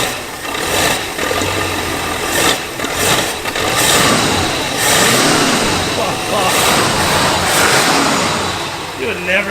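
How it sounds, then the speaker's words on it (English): A barn-find Mercury Cougar, revived after about 40 years parked, idles loudly close by and gets blipped, the engine note swelling and falling while people talk over it. "Give it a rev."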